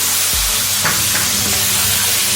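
A ground mustard-greens paste sizzles loudly and continuously in a pan, with a dull thump near the start and a steady hiss throughout.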